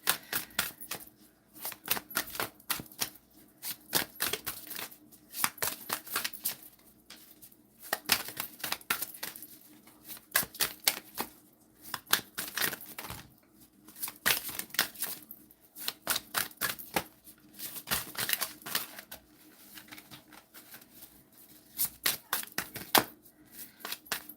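A deck of tarot-style cards is shuffled over and over, giving close, crisp riffling and clicking bursts in an uneven rhythm with short pauses between them.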